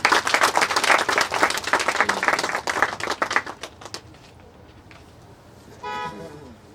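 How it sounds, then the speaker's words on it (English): A crowd at a university alumni project commissioning at Olabisi Onabanjo University claps heartily for about four seconds, then the clapping fades. A short horn-like toot sounds near the end. "A lot of applause for them."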